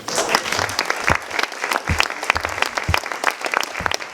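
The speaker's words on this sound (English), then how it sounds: "can we go ahead and give him another round of applause, please?" An audience applauds after a lecture, a dense, lively clapping from a crowd that holds steady throughout, with a voice briefly heard over it.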